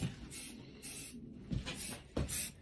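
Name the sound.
spray paint can spraying primer on seat parts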